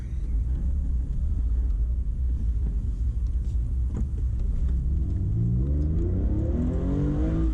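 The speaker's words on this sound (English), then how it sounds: "So the car's fired up" A previously abandoned Porsche 911 engine rumbles at idle up close, then revs and climbs in pitch as it accelerates toward the end.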